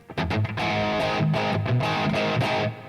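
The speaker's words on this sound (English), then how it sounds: "I've got like a big hang time of reverb, 7 seconds of decay" An electric guitar plays through a simulated amplifier on a Line 6 Helix, with distorted chords and notes ringing into a long reverb tail of about seven seconds, loud and continuous.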